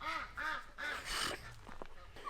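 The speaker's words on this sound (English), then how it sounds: "The ducks are very funny, the way they communicate." Farm ducks quack in repeated harmonic calls, several bursts close together near the listener, followed by softer mixed honks and squawks fading toward the end.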